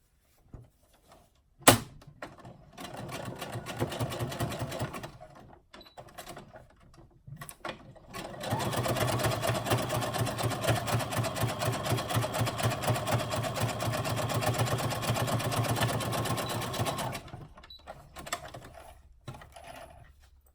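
A sewing machine top-stitches a trimmed seam, a short burst first, then a long, steady run of fast needle clatter close by, ending in a few quiet clicks and handling sounds.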